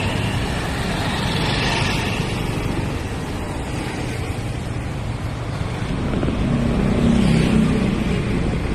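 Steady road traffic roars continuously, with broadband rumble and wind buffeting against the microphone, swelling slightly near the end and with no voices.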